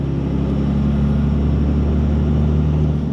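Manual-transmission Cummins diesel pickup truck driving along, a steady loud low rumble of the engine with a droning drivetrain hum that holds even and continuous throughout, close to the cab.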